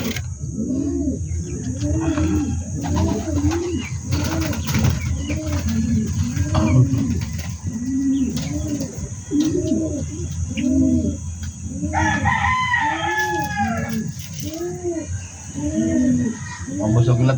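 Pet chickens and pigeons in a backyard coop, with steady cooing and clucking throughout, close and layered, and a rooster-like call rising partway through; someone speaks softly under the birds.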